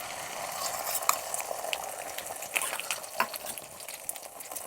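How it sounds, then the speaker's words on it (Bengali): An egg fries in hot white oil in a kadai, giving a steady close sizzle with scattered crackles and small spitting pops throughout, no one speaking. "এটা তেলটা গরম হয়ে গেছে, এবার এতে আমি ডিমটা দিয়ে দেবো।"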